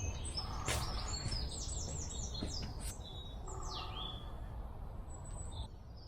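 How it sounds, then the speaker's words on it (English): Woodland bird calls on a wooded estate: a series of bright chirps, rising whistles and downward-swooping notes, moderately distant, repeating irregularly over a steady low outdoor rumble, with no talking. "Did you hear that? That's the woodpecker."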